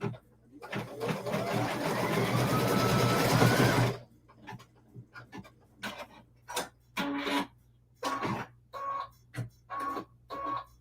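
An embroidery machine stitches a wall hanging with a loud, fast, steady whirring run, then switches to short intermittent clicks and buzzes as it trims threads, close and alone without talk.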